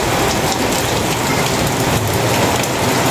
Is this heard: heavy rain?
yes